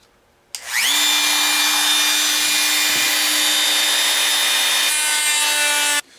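A three-blade flush trim cutter whines at high speed as it trims the edge of a guitar fretboard flush against a flat, straight neck, a loud steady routing tone running about five seconds before it stops.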